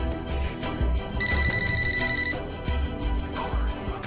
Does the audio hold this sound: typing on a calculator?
no